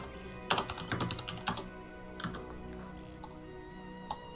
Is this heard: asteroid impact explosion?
no